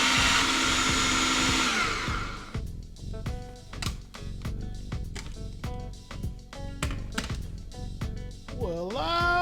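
A food processor on its high setting grinds smoked brisket. Its motor whirrs loudly at first, then drops to choppy pulses and rattling bursts, with a voice speaking near the end.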